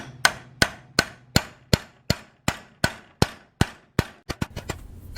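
A Chamberlain garage door opener gear is tapped onto its shaft over a new bushing: about fourteen sharp, close metallic hammer taps at a steady pace, quickening into a rapid cluster at the end, with no speech.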